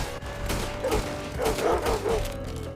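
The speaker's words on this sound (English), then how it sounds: "There's a little dog coming after me." A small dog barks in Red Dead Redemption 2 survival mode, several quick yapping barks in a short irregular burst over steady game background noise.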